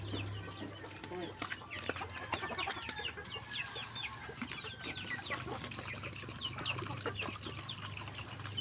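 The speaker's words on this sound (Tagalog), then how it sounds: "magpapalabas tayo ng 16 na pirasong manok galing sa kulungan" Many chickens cluck and chatter together close by, a busy, continuous flock sound over low background hum.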